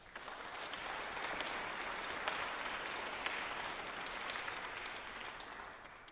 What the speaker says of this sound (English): So we'd like to have a round of applause for him.